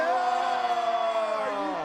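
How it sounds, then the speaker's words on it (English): A crowd at a Dew Tour adaptive park skateboarding event in Des Moines, Iowa, roaring and whooping continuously, loud and sustained with tonal shouts riding over the cheer. "Come on, crowd, make some noise."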